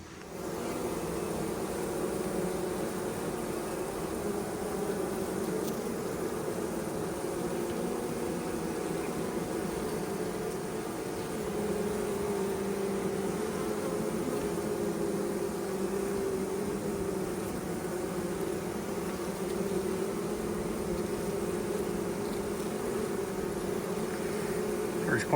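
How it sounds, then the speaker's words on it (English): Honey bees buzz in a small nuc hive after smoking, a steady, dense, close hum that holds for the whole stretch with no talking. "Smoking the bees gets them running around, makes it harder to find queens."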